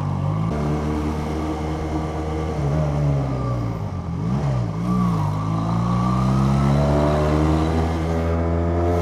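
A Benelli Patagonian Eagle Motobi 250 motorcycle engine drones steadily while being ridden, close and loud, with the pitch dipping and rising as the throttle eases off and then builds again.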